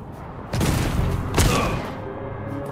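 Gunfire aimed at the player in Funko Fusion, a loud close burst of rapid shots with a sharp crack in the middle, fading into a softer tail.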